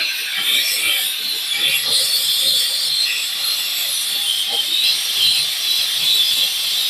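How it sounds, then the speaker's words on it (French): A Polti Vaporetto SV440 steam mop with a long, stiff grout brush works over mosaic tile joints, giving a loud, continuous hiss of steam with a soft scrubbing rasp underneath. "J'utilise donc la brosse longue, spécifiquement dédiée au traitement des joints."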